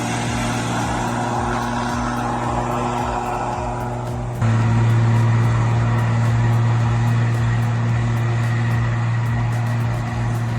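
A heavy truck engine drones steadily and loudly on a steep mountain descent, with a fast regular ticking over the low hum. The engine swells slightly louder midway and keeps going with no voices.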